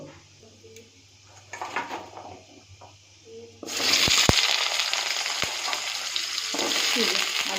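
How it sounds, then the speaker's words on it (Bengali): Potatoes dropped into hot mustard oil tempered with nigella seeds set off a sudden loud, close sizzle after a quieter start with faint clatter, then steady frying hiss with occasional sharp clinks of a utensil. "এবার এর মধ্যে আলুগুলো দিয়ে দেবো"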